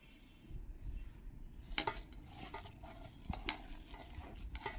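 A spoon stirs salt into a sabudana and potato batter in a bowl, giving a few sharp clinks against the rim among soft, wet scraping, fairly close and quiet.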